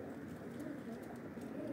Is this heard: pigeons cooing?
yes